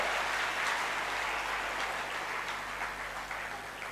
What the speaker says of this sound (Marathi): एकदा टाळ्या वाजवा, जोरात